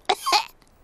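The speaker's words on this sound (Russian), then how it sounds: "У меня кашель." A cartoon child character, Pedro the pony from Peppa Pig, lets out a short double cough, close and clear, with nothing else around it.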